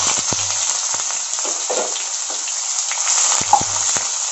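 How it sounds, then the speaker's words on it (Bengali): Thinly sliced onions fry in hot oil with cumin, a continuous bright sizzle with occasional soft knocks and stirring scrapes of a utensil against the pan, close by. "এবার এর মধ্যে আমি দিয়ে দিচ্ছি পেঁয়াজ কুচি।"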